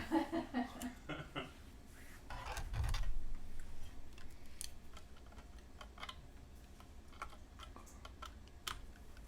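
Rapid clicky keystrokes on a carbon fiber mechanical keyboard with blue clicky switches, a dense burst of typing close up that thins into scattered clicks, with faint room noise.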